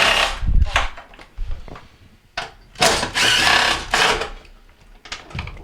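Screws are backed out of the lint screen housing on an LG dryer, heard as several bursts of an electric driver whirring in short runs broken by brief pauses and small clunks.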